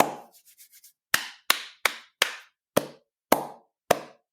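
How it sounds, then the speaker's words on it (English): Hands clapping, first a few soft muffled claps, then seven sharp separate claps at a steady slow rhythm, close and clear with no talking. "2 different ways of clapping your hands"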